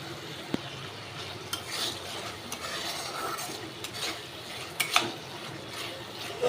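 Masala paste cooking down in released oil for a Bengali pangas fish dish, heard as a steady soft sizzle with scattered scrapes and light clinks of a spatula against the pan, no voices.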